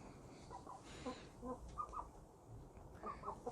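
Several Ameraucana chickens cluck softly in short, scattered bursts nearby, with faint background rustling.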